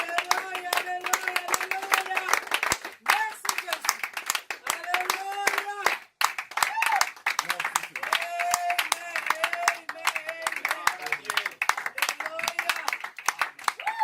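A church congregation in Grenoble claps steadily and rhythmically for the Lord through the whole stretch, with voices carrying over the clapping.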